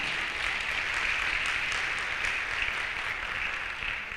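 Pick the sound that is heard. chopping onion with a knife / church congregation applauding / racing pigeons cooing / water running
church congregation applauding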